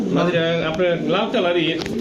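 Stone-eyed pigeons, including Pakistani Teddy, Rampuri and red Gola breeds, cooing up close in soft repeated throaty phrases, with someone talking over them.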